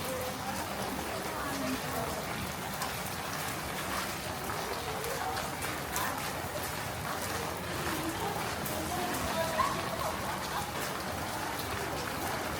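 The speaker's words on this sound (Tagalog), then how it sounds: "Cause it's been raining here in Vegan." Steady rain at night in Vigan, a dense continuous patter of drops on surfaces, even and moderately close, with no voices over it.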